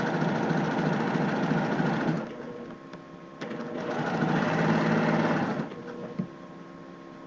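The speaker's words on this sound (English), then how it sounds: "I'm going to stitch this at 1/4" Sewing machine stitching a shirt seam at a quarter-inch allowance: two steady bursts of close, rapid mechanical whirring separated by a short pause, no talking.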